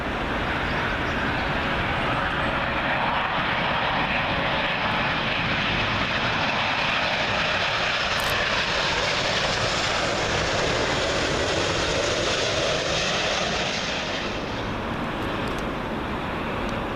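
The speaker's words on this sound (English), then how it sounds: "Another British Airways 777 coming in. This one from Washington." A British Airways Boeing 777 landing on runway 27L at Heathrow, its jet engines roaring loud and steady overhead, then easing off as it passes, with no voices.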